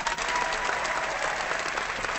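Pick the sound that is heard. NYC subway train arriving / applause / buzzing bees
applause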